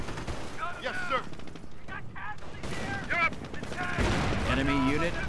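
Company of Heroes battlefield gunfire, continuous bursts of rifle and machine-gun fire mixed with distant explosions, while soldier voices shout over the combat.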